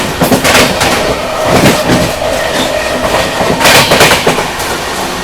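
The Shiv Ganga Superfast Express runs at speed while overtaking the Avadh Express, a loud continuous rush of wheels and carriages with rhythmic clickety-clack beats and bursts of rattling.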